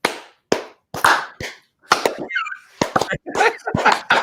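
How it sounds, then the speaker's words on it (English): An 80s-style slow clap from a small group at a livestream, with sharp, separate claps that start slow and speed up into a quick uneven flurry, plus a brief whoop partway through. "80s slow clap for Chris."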